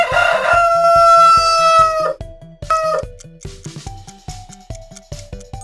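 A rooster crows with one long, loud, bright call in a children's bird-names clip, followed by shorter crowing bursts over a steady rhythmic music beat.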